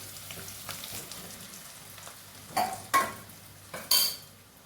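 Spice powder stir-frying in a pan, a soft steady sizzle broken by a few sharp metal spatula scrapes and clinks against the pan, close and fairly quiet.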